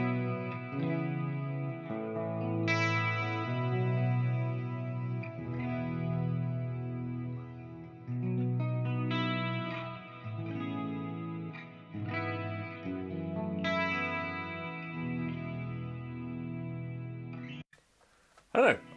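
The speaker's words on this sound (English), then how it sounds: "make sure that reverb's only on for our ambient clean" Clean guitar through an EVH 5153 amp with reverb and chorus-like ambience, a series of sustained chords and arpeggiated notes ringing out over about seventeen seconds, ending in a brief burst of noise.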